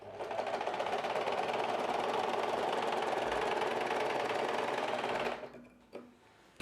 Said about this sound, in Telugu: ఆ డాట్ దగ్గర వరకు మాత్రమే ఎగ్జాక్ట్గా మనకి కుట్టు వచ్చేలాగా చూసుకోవాలి